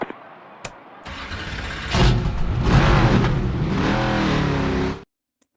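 A NASCAR 25 race car pulls out of the pits at Rockingham Speedway in the video game, its engine revving up loudly and holding a rising roar before cutting off abruptly.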